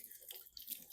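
Pot of water heating on a stove for the canning liquid for red peppers, a faint, soft hiss and gentle bubbling that keeps on steadily for the whole moment, with no talk.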